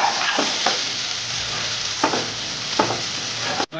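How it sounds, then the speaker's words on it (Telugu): Tomatoes and mint leaves frying for prawn masala, a steady sizzle broken by several scraping stirring strokes close by, ending with a sudden cut. "టమాటాలు మెత్తగా ఫ్రై అయ్యేటట్టు చూసుకోవాలి"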